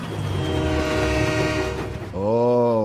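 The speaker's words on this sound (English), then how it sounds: "this weird period when Diesel had a generic American air horn" Generic American air horn on the diesel engine in Thomas & Friends, sounding after a stretch of train rumble: a loud, sustained multi-tone chord blast that bends slightly in pitch, close and alone.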